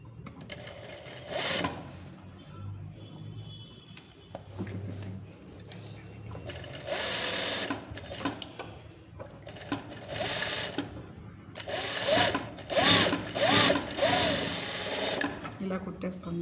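Sewing machine stitching a Katori blouse, running in several bursts of rapid mechanical whirring separated by short pauses, close and loud, with someone talking between and over the stitching.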